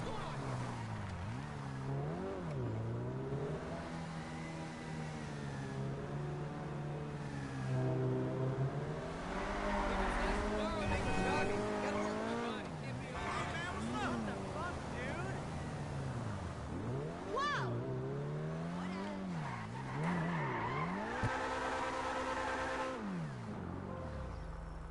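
A car in GTA Online engine-revs and shifts pitch repeatedly as it is driven hard, the whining motor rising and falling with sharp squealing tones, while a person talks over it.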